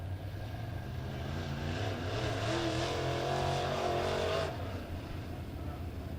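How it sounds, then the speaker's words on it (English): IMCA modified dirt-track race cars circle under caution during a heat race at Springfield Raceway, a steady droning engine roar that rises and falls in pitch as the cars pass, then eases slightly. "So caution coming out one more time here for the IMCA modifieds."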